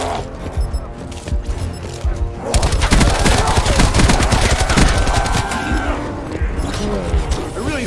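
Rapid gunfire from the Call of Duty Black Ops 4 campaign, dense automatic bursts and clattering impacts that grow louder partway through, with voices shouting over the shooting.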